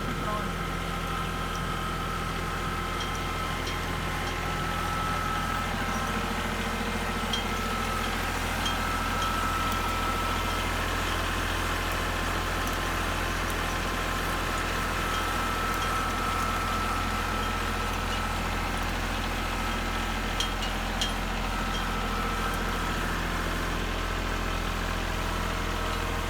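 A tractor fitted with tire chains runs in snow, its engine a steady low rumble throughout, and a voice talks over it.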